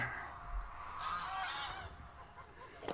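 Geese honking, several drawn-out calls overlapping at moderate distance, with no talk.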